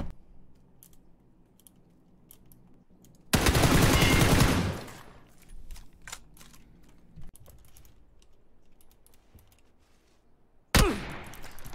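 Video game gunfire with heavy recoil bursts out loud in a dense rapid volley lasting over a second, with a shorter burst near the end, while keyboard typing and clicks tick away quietly underneath.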